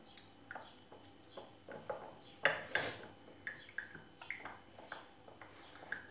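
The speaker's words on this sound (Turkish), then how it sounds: "Şimdi bunu ben tahta kaşığımızla iyice karıştırıyorum." Onion and honey, in equal amounts, are stirred with a wooden spoon, giving a series of soft, close scraping and clinking strokes in an irregular rhythm, with no voices.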